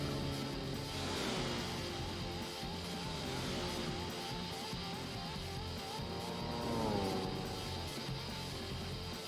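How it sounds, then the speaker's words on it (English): A racing car engine in Gran Turismo 4 drones steadily, its pitch climbing and then dropping in smooth steps as gears change, with a constant hiss underneath. "listening to the smooth gear changes on this car"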